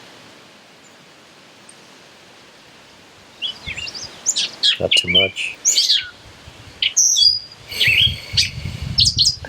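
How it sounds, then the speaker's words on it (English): Outdoors, birds break into bright, close chirps and tweets over a soft background hiss after a quiet start, calling in irregular bursts. A brief spoken phrase comes in among them. "Birds talking to you"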